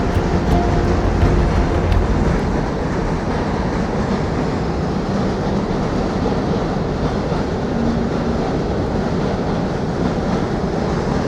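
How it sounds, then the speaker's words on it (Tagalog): Loud, steady rumbling of a moving train, a continuous heavy roar with rattling and clatter lasting throughout, no voices heard. "Ang ingay ng tren."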